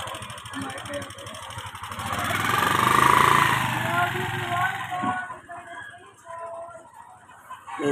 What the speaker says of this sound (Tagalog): Oh, may motor na